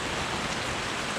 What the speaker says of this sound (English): Oh, what a nice rain.